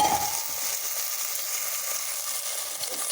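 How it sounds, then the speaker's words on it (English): Potato pieces frying with cumin in a pan on a medium flame, a continuous close crackling sizzle with a faint stir-scrape at the start, no talking. "Give a stir."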